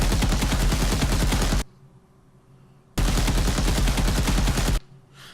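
Looping automatic weapon fire from an Unreal Development Kit game plays loud and close in two rapid bursts of about a second and a half each, both cut off abruptly with a quiet gap between them.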